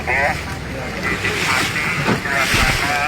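Surf and wind at Karangagung beach along the Karangbolong coast, a steady broad wash of waves with gusty wind noise throughout, and people talking faintly over it.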